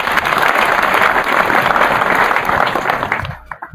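Audience applause from a crowd at a university certificate-giving event, a dense steady clapping that holds for about three seconds before thinning out and fading.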